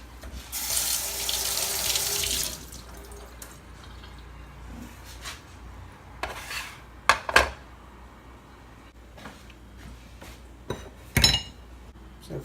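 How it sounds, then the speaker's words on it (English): Tap water runs loudly into a sink over a plastic popsicle mould for about two seconds, then stops, followed by scattered faint clinks and knocks of handling the mould, with no talk. "I just run it through water."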